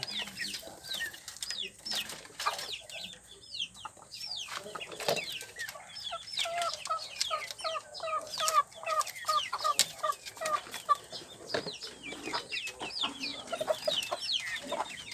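Chickens on a small egg farm cluck and chatter in a busy overlapping flock, with many short repeated calls rising and falling, moderately near but fairly quiet.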